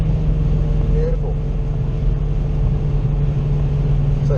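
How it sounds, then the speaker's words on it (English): Hyundai i30 N track car driving at the Phillip Island race circuit, a steady droning engine and road rumble heard from inside, continuous throughout with faint speech over it. "Car coming out, so just keep, it's alright, just keep an eye on it"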